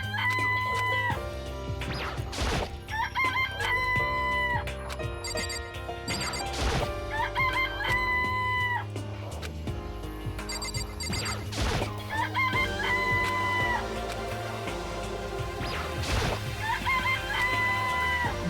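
Chickens and roosters cluck and crow repeatedly in the Danganronpa video game, with game chimes and background music layered under the bird calls.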